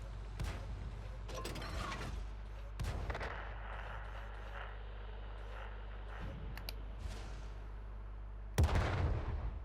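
A French AMX artillery gun fires in World of Tanks: several booming shots ring out over a steady engine drone, with the loudest, sharpest blast near the end.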